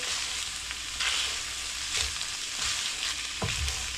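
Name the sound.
stirring ground beef with salsa in a pan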